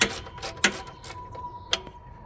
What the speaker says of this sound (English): I'm taking the bolts loose so I can loosen the belt on it.